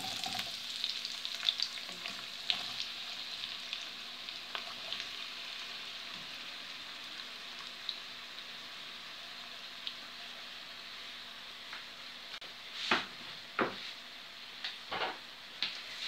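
Around 400 grams of onions fry in 80-100 ml of heated oil, a soft, steady sizzle with faint crackles and a few louder stirring clatters near the end, with no voices.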